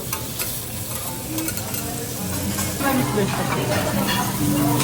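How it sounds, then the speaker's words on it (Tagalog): Vegetables with cabbage stir-frying on a hot teppanyaki griddle, with a steady sizzle and scraping, stirring clatter that grows a bit louder toward the end, while people talk nearby. "Stir fry with vegetables."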